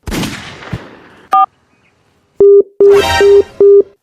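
A phone line's busy tone sounds after a call is cut: four steady beeps at an even pace, loud and close, following a brief burst of noise and a short tone.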